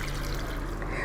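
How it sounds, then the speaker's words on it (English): Roughly two cups of water pour into a pot of chipotles in adobo, a steady, full splashing flow with no break. "Now I am ready to add the water, and I'm going to add about 2 cups of water."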